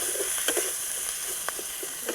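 Spices with chili powder sizzle while being sautéed for rohu fish curry, a steady close hiss of frying dotted with small crackles and light stirring ticks, no voices present.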